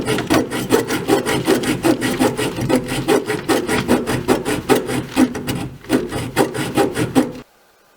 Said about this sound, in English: the only thing that I can really use is this manual hacksaw